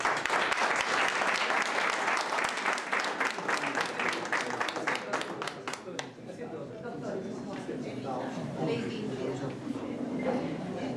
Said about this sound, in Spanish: yo pido un fuerte aplauso